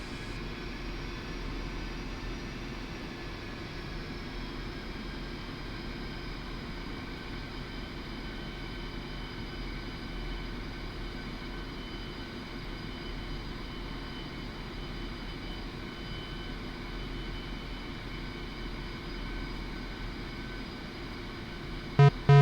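Sukhoi Su-25T jet engine idling steadily in the DCS World flight simulator, a constant droning roar with a high whine on top, even and unbroken throughout, with no talk over it.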